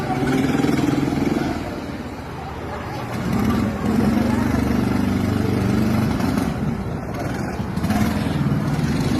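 A go-kart engine drones steadily on a karting track, its low hum swelling and dipping as the kart runs laps, loud and continuous throughout.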